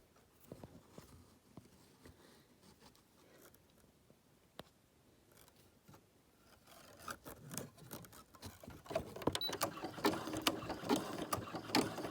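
A sewing machine stitching a mini notebook holder runs in short, sparse bursts at first, then settles into a denser, louder rapid mechanical patter over the second half, close up with no talk.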